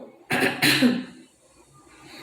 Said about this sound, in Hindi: खांसी आ ही रही है मुझे